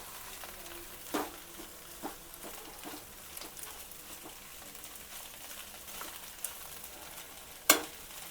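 Shavige upma fries on high flame in a pan, a soft continuous sizzle with scattered sharp clicks and scrapes of stirring, one loud crack near the end.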